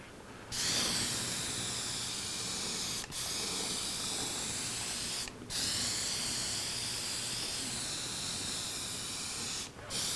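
Long continuous hissing bursts from a spray gun spraying lacquer on an acoustic guitar, broken by three brief pauses between passes.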